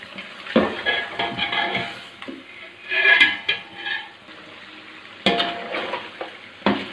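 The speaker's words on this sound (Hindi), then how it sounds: "इस मसाले के साथ अच्छी तरह गोश्त को भून लेना" Beef frying with spices in a pot for degi beef pulao, with loud metallic scraping and clanking of a spoon against the pot over a sizzling background, in uneven bursts.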